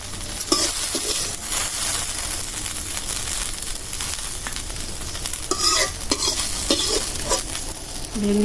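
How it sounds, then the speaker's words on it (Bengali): Fish and okra sizzle and fry steadily in a hot pan, with occasional stirring scrapes cutting through the constant crackle. "হয়ে গেল মাছ ভাজা ভেন্ডি ভাজা"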